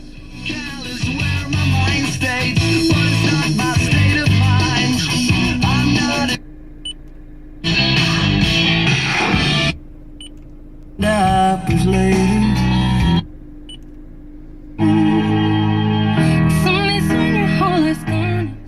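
The original factory radio in a 1990 Mazda Miata plays loud, full music inside the car, cutting out abruptly several times between stations or tracks with short silent gaps.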